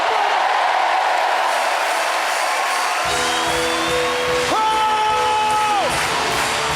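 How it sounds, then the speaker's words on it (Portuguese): Church congregation cheering and applauding during a worship service, loud dense crowd noise with whoops and shouts, and sustained tones from instruments or voices rising over the clapping in the second half. "Dê um glória a Deus e aplauda o Senhor"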